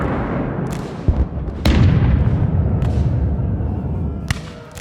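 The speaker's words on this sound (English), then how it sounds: "An unrelenting barrage of muskets and grape shot commenced." Battle sound effect of musket volleys and grapeshot, a dense rumbling din punctuated by several sharp cracks and heavy thuds, loud and continuous.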